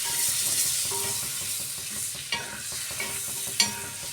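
Chicken kebab fries in butter in a pan, a close steady sizzle broken by a few sharp stirring scrapes and clicks, with no one talking.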